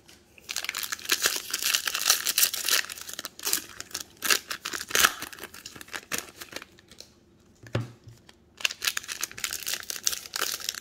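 Topps 2022 Series 2 trading card packs from a retail blaster box are torn open, giving repeated close crinkling and ripping of foil wrappers in irregular bursts, with no talking.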